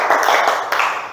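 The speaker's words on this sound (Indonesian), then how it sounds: "Yuk beri tepuk tangan dulu buat siapa dek?" Children clap together in a classroom, a short burst of dense, steady clapping that fills the room at close range and fades toward the end.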